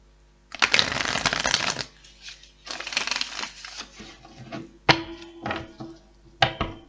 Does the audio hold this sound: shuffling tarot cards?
yes